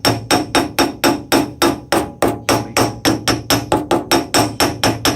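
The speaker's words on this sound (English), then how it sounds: "I'm hitting the hub, so we're finished." Hammer striking the wheel hub of a Ford 660 tractor during front wheel bearing work: about twenty sharp metallic blows in a fast, steady rhythm, loud and close with no voices.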